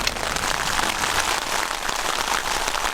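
Heavy rain pours steadily onto a desert camp during a flash flood warning in Jordan, a dense, continuous hiss close by with no voices.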